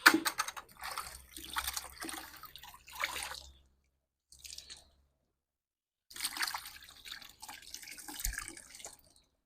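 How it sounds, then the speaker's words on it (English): Cloth is rinsed in a bucket of cold water with close splashing, sloshing and dripping in separate bursts, broken by short silent pauses, during hot cloth grooming of a horse. "we put this in the cold water bucket to clean the cloth"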